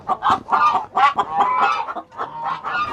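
Buff Orpington hens cluck in a coop by the nest boxes, a close, busy run of rhythmic clucks and throaty murmurs repeating in quick pulses without pause and with no one speaking.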